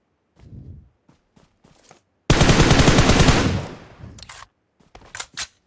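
Automatic gunfire in a shooting video game rips out in one loud sustained burst lasting about two seconds, with scattered single shots and footsteps before and after.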